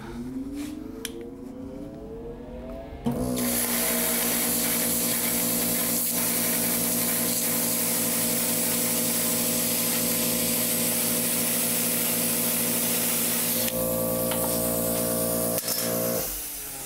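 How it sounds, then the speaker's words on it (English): A cutting machine with a grounding strap slices traced shapes out of sheet metal, giving a loud, steady hissing roar for about ten seconds after a quieter start, then tapering off near the end, with no voices. "I'm going to cut out some stuff I traced out with a pencil on some metal, and all I have to do is simply follow the lines and cut it out."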